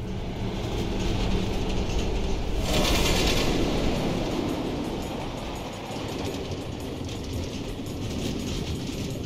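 Automated minecart rails in Minecraft Story Mode rattle and clatter continuously with a mechanical, gear-like churn, loud and close, swelling for a moment early on before settling into a steady rumble.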